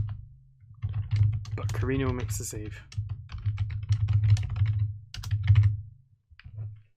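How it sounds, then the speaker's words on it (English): Steady clacking of typing on a computer keyboard in bursts of rapid keystrokes, close and clear, with someone talking over it and a low hum underneath. "I have to pass over my keyboard whenever I want to type something"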